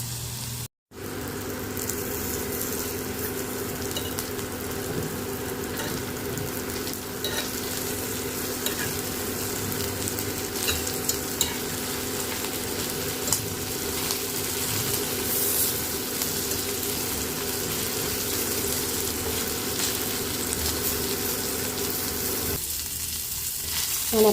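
Shrimp fry in a pan, turned now and then, giving a steady close sizzle with scraping stir strokes for most of the clip and a brief drop at the start.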